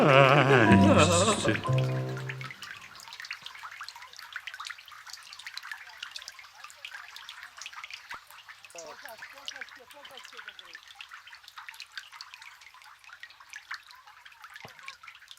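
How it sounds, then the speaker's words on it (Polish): Autumn rain falls and drips steadily outdoors in a soft, continuous patter, preceded by a brief burst of singing at the start. "Na całej połaci deszcz w przeróżnej postaci deszcz"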